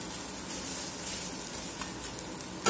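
Adai dosa fries in sesame oil on a pan, giving a continuous close crackling sizzle with faint scraping and a sharper clatter at the end.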